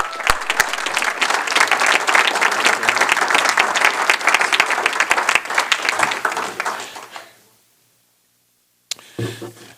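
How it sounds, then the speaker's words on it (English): Applause at a school board meeting, loud, close clapping from a room full of people, sustained for about seven seconds before quickly fading to silence, followed by a brief bump of room noise. "Let's give a warm round of congratulations and applause to this young man."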